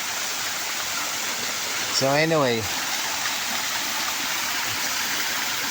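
A waterfall near a home in the Philippines pours in a steady, loud broadband rush that fills the whole clip, with someone briefly speaking over it partway through.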